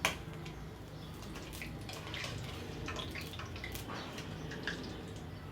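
Fried lentil dahi baray fritters drop into a bowl of water in a home kitchen, giving soft splashes and trickling, dripping water, faint and close, with no talking.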